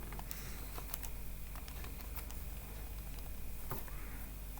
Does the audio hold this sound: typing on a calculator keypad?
yes